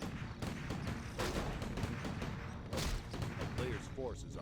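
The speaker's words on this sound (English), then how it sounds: "the Tauren walks straight into a few gunshots." Rapid gunfire pops from a Warcraft III battle, scattered shots over dense game noise and ongoing commentary talk, with a town under siege in the background.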